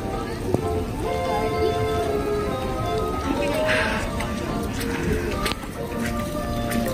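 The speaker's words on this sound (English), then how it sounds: "Are you enjoying the rain" Steady rain patters outdoors amid scattered drips and taps, with occasional voices talking nearby.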